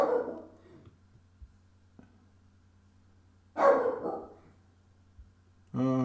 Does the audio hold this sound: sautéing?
no